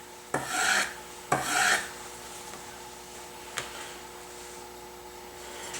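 A hand plane iron is honed flat on a sharpening stone with two distinct rasping swipes, followed by a faint tick, quiet and close.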